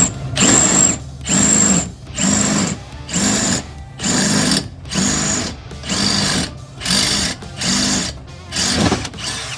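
A power drill bores into metal in repeated bursts, about nine short whirring passes separated by brief pauses, loud and close, during work on a turbocharged S10 truck.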